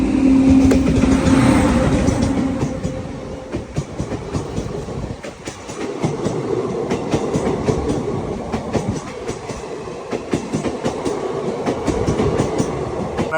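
A Kumbh Mela special train rolls along steadily, wheels clattering in a continuous rhythmic clickety-clack with a loud rumble that dips briefly midway, no voices over it.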